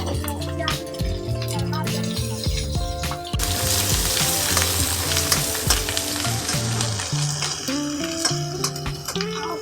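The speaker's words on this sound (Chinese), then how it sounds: "把这个姜的香味炒出来" Ginger sizzles loudly in a hot wok while being stir-fried, with continuous crackling frying and the scrape and clank of a spatula stirring, close up and without speech.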